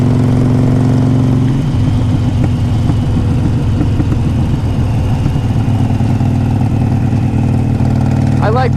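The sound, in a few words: 2014 Harley Davidson Forty Eight motorcycle riding at speed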